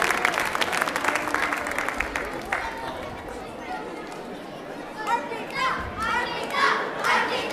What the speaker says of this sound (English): You all deserve huge round of applause